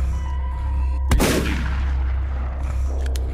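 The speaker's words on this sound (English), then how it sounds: "I got a shotgun." A single booming shotgun blast in the video game Jazon And The Dead, sharp and loud with a long decaying tail over a low background hum.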